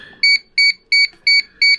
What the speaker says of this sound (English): Aircraft beeped.